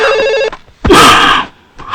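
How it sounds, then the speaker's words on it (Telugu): A telephone ringing loudly nearby, two bursts of bright electronic trilling bell tone separated by short pauses, with the start of a third at the end. "ఫోన్ రింగ్ అవుతుందండి."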